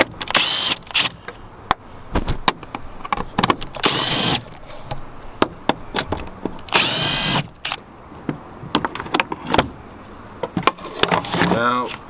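Cordless power drill spins out four 8mm air box screws on a 2015 Chevy Suburban with a 5.3 Vortec, several short whirring bursts with clicks between them, close and loud, alongside occasional speech.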